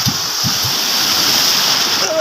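Big waves wash and splash steadily at close range, a continuous broad roar of churning water with low thumps early on; a few short calls cut through near the end.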